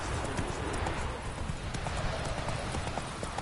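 Roach the horse trots with rapid, regular hoofbeats in The Witcher 3, close and fairly loud, with a little speech in the background.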